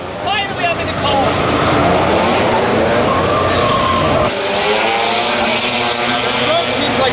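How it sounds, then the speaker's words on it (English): A Jasper Performance Toyota Supra drift car, once owned by Rhys Millen, roars loudly and close up with a revving race engine and tire noise. The sound shifts abruptly partway through, and voices talk over it. "there will be a Swedish driver ready for the drift, behind the wheel of a Jasper Performance Supra"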